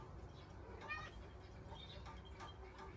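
A mother cat, a new mother in a home setting, gives a few soft meows to call her kittens, faint and intermittent against steady low background noise.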